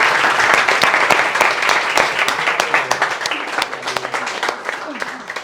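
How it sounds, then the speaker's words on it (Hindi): A group of people clapping at an indoor celebration, sharp individual claps rising over a dense, fairly close round of applause, with voices talking underneath. "ताली मैं बजाऊंगा"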